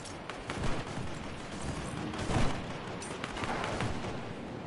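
Rapid SMG gunfire in a Fortnite match crackles in dense, continuous bursts with a few louder peaks, the shots blurring together into a steady roar with no talk over it.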